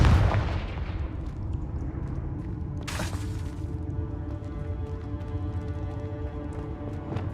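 Confringo blasting curse from the Hogwarts Legacy video game, heard as a sustained heavy, rumbling barrage with a sharp burst about three seconds in, loud and dense throughout with no voices.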